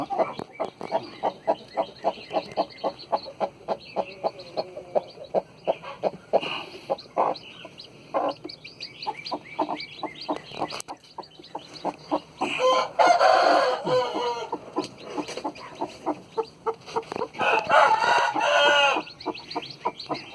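Chickens cluck steadily and continuously at close range for twenty seconds. A rooster's crow rises loudly twice over the rhythmic clucking.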